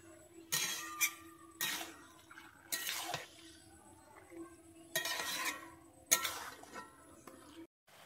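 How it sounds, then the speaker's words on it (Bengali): Chicken being stirred and fried in a pan, home-style, with a utensil scraping and clinking against the pan in several separate strokes over a quiet, faint sizzle. "আমি মাংসটা দিয়ে দিচ্ছি। আমি এবারে চিকেনটাকে একটু ভালোভাবে কষিয়ে নেব।"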